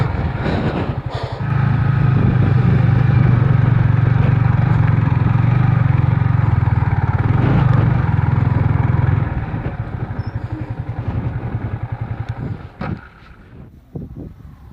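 A motorcycle engine labors loudly up a steep, rain-damaged dirt trail, a steady close drone heavy with wind noise that eases off and sputters toward the end.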